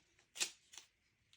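Adhesive tape is pulled and pressed down to fix a wooden block onto a board for a new printer output tray: a sharp ripping burst, then a second softer strip sound, close and quiet with no talking.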